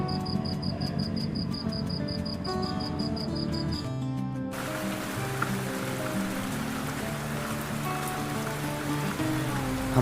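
Rain falls steadily on a motorbike ride near Pokhara, a continuous patter of drops mixed with insect-like chirps and a faint musical tone in the background.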